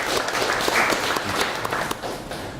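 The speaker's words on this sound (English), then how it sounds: "So if we can all give them a round of applause." An audience at an old-fashioned Fourth of July gathering gives a round of applause, dense steady clapping that holds for a couple of seconds and thins toward the end.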